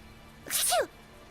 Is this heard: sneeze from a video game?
yes